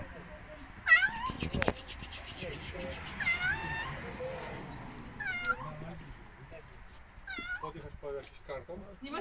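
A neglected cat near Płońsk meowing repeatedly, a series of short, rising and falling meows spread through the scene with pauses between them, while people talk nearby.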